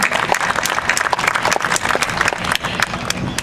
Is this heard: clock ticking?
no